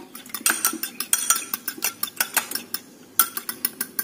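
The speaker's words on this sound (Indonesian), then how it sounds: "Kocok hingga tercampur rata." Two eggs are beaten by hand in a bowl with a utensil, giving rapid rhythmic clinks and taps against the bowl in quick regular strokes, close and clear, with a short pause near the end before the whisking resumes.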